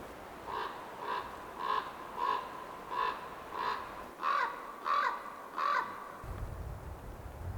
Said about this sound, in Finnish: Korppi raakkuu jossain.